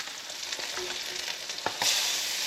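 Trout and flounder fillets sear in a hot pan, a close continuous sizzle with scattered pops and crackles that swells louder near the end, no talking.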